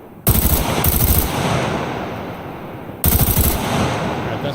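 Two loud bursts of full-auto gunfire in the video game SCUM, each a rapid rattling string of shots, with a sustained ringing tail between and after the bursts.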